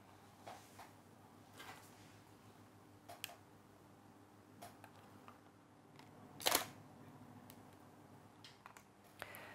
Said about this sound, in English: when I take the first image, I will be using the shutter release so as to prevent any camera shake